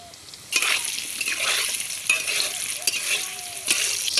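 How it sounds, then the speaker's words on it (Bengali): Quartered potatoes seasoned with salt and turmeric fry in hot oil in a kadai, a steady bright sizzle punctuated by several sharper crackling bursts as they are stirred, with no voices. "আলুটা ভেজে নেব"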